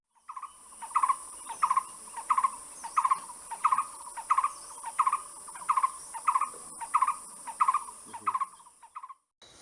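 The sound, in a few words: large scimitar babbler calling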